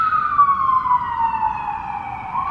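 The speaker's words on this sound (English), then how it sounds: "What an ironic time for an ambulance to come by my apartment." An ambulance siren wails steadily outside an apartment, its pitch sliding slowly downward as it passes, loud and continuous with no talk over it.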